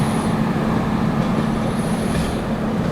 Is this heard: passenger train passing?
yes